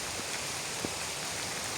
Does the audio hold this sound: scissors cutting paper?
no